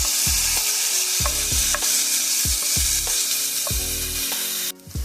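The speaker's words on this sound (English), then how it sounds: "you want to add in your minced garlic. We're going to saute that for 1 minute." Minced garlic sizzles and fries steadily in a hot pan on medium-low heat, with several rhythmic stirring scrapes and clunks of a utensil against the pan.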